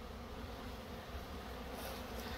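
A dense, steady buzzing drone of many honeybees robbing a beehive fills the air, faint and continuous with no pauses or voices.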